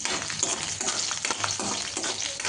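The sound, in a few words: green chili and garlic tempering frying in hot oil in a wok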